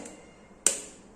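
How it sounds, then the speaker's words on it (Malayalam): A single sharp crack of an egg struck against a bowl edge, crisp and close, standing alone in a quiet kitchen while bread balls are being prepared. "നമുക്കിനി ഒരു മുട്ട പൊട്ടിച്ച്"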